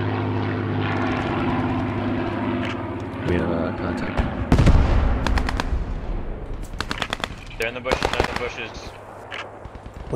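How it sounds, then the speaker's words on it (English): Stuka dive bomber in a war video game, propeller engine droning overhead amid bursts of machine-gun fire and sharp gunshots, with players talking over the action. "Stuka coming."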